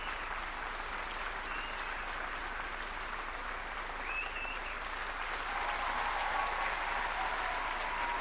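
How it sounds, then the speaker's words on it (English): Stadium crowd in Madden NFL 25 cheering and applauding as a drafted player walks out, a broad wash of cheers that swells louder toward the end. "Let them walk out. See if they cheer."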